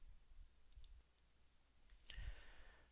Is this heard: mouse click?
yes